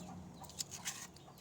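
Chickens penned in a backyard clucking faintly, a few brief higher calls standing out over a low, steady background hum.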